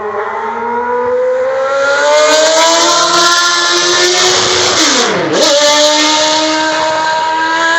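Classic race cars at Thruxton Circuit scream past, a loud high-revving engine whose pitch climbs steadily, then sweeps down sharply as one car passes close before a second rising note takes over.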